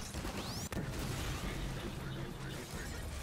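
Secondary fire from a weapon in Half-Life 2 sounds once as a sharp burst near the start, then dense game noise rumbles on steadily for a few seconds.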